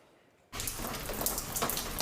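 Water pours and splashes steadily into a damaged home, a sudden loud rush of dripping and spattering that starts abruptly and continues without pause.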